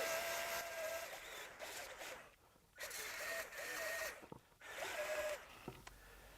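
A drill bit's cutting edge being sharpened on a grinder, heard as bursts of harsh, gritty grinding separated by brief pauses, fairly quiet and up close.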